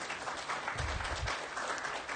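Audience applause at a DrupalCon Amsterdam 2014 conference talk on render caching, a short burst of steady clapping from a moderate-sized crowd in a hall, fairly quiet and even throughout.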